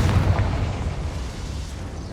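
A Confringo spell explodes in the video game Hogwarts Legacy, a single loud, close boom whose rumbling burst fades away over about two seconds.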